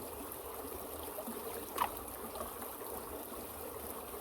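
Water runs steadily through a gold-prospecting sluice set slightly tilted in a stream, giving a faint, continuous trickling wash with one brief splash partway through and no voices.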